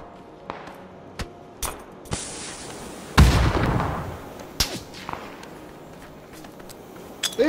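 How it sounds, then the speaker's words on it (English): A frag grenade blasts in PUBG, one sharp booming explosion midway that decays into a rumbling tail, set among scattered distant gunshots and cracks at a moderate level. "Throw a frag."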